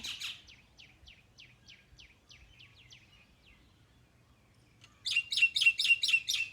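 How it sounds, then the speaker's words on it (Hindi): Small birds chirp near a terrace in the Himachal Pradesh mountains: a run of quick, thin chirps at moderate distance, a quiet pause, then a louder, closer burst of repeated bright calls at the end. "अब धीरे धीरे मेरे टेरेस के पास पक्षी उड़ के आने लगे हैं।"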